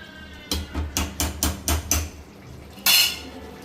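Chicken curry stirred with a ladle in a metal pot, six rhythmic clanking scrapes against the pot's side in quick succession, then a pause and one louder, brighter scrape near the end.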